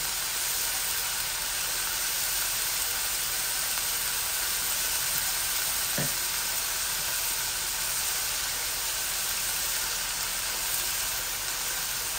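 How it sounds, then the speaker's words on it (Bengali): Onions fry in oil for a Bangladeshi fish bhuna with an even, constant hiss that holds close and steady throughout, broken only by a single faint tap midway. "এখন খালি পেঁয়াজ দিছি।"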